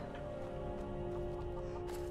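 Chickens cluck softly and continuously in Skyrim, a faint, close flock murmuring over a steady tonal game backdrop with no talking.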